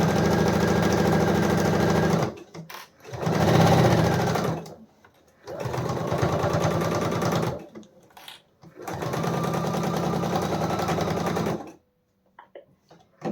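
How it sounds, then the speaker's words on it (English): Sewing machine chain piecing quilt fabric at a short stitch length, running in four loud, steady bursts of rapid stitching separated by brief pauses, close and alone. "this through the sewing machine. I'll chain all of these together,"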